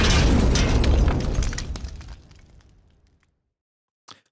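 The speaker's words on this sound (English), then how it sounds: "Then we have the explosions for the impact." A loud, booming explosion for a plane crash impact in an audio drama, with a long rumbling decay fading out over a few seconds, followed by a brief faint crackle after silence.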